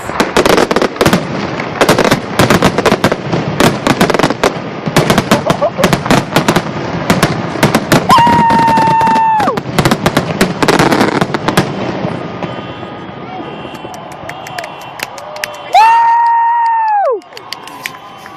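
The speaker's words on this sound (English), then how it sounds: "I've never seen so many fireworks." Close, loud after-game fireworks at an A's vs Blue Jays ballpark, a fast barrage of booms and crackles with a crowd cheering underneath, then the bursts thin out as whistling rockets rise near the end.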